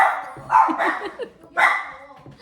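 Puppies bark in the same room during a knitting podcast recording, two loud close bursts of several sharp barks with a brief gap between them.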